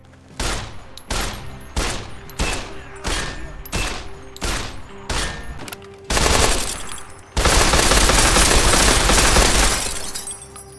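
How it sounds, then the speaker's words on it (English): Modded Call of Duty Modern Warfare 2019 bullet impacts in Fallout New Vegas: a rapid, evenly spaced series of sharp loud cracks with debris, then a dense continuous burst of impacts and shattering, no speech. "MW 2019 Bullet Impact Sounds mod replaces a lot of vanilla impact sounds with that game."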